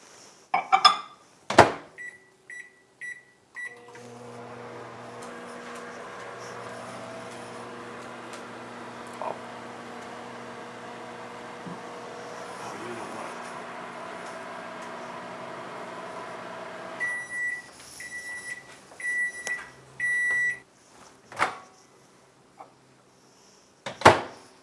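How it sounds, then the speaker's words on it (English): A microwave oven cooking bread pudding in a mug: a few beeps and a door clunk, then a steady low hum for about fourteen seconds, ending in a string of loud beeps and clicks. "Let's put it in the microwave."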